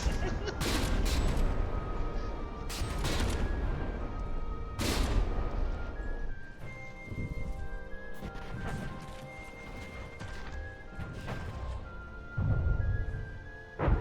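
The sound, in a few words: warship turret guns firing in From the Depths video game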